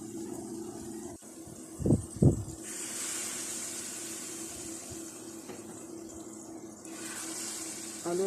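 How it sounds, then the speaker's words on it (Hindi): Water is poured into a pot of browned beef and potato curry, starting with two brief sizzling bursts and settling into a steady hiss and bubbling that runs on under a low background hum. "अब मैं फिर से पानी लगा रही हूँ।"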